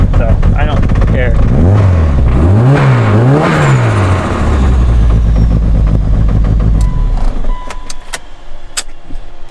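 A self-built car motor revs loudly and close up, rising and falling in three sharp pulls before settling into a rumbling idle, with clicks and knocks toward the end.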